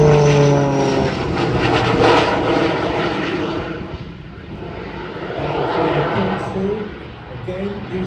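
A turbine-powered display aircraft at the International Ayr Show roars overhead in a sustained engine drone that swells and fades as it passes, heard under a commentator's voice.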